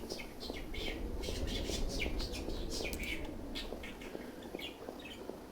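Bird chirps and calls ring out repeatedly in the snowy Alaskan wilderness of The Wild Eight video game, bright short tweets scattered over a low rumbling ambience, fairly faint.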